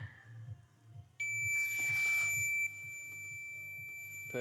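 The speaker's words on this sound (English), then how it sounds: "If it beeps, it's good." A multimeter continuity beep, steady and high, starts abruptly as probes touch a connector pin, holds for about three seconds, then drops slightly in level, with faint handling noise underneath.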